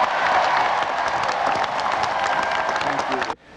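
Dense applause and cheering from a huge crowd of more than 40,000 Grenadians greeting the United States president, a continuous broad roar that cuts off sharply at the end.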